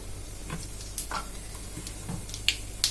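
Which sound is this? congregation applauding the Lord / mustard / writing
mustard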